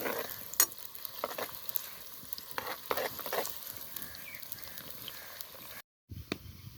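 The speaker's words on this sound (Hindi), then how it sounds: "अब इसे हल्का ब्राउन होने तक प्याज़ों को पकाएंगे।" Onions fry in a pan until light brown, a continuous close sizzle with crackling pops and occasional stirring scrapes, briefly cutting out near the end before resuming.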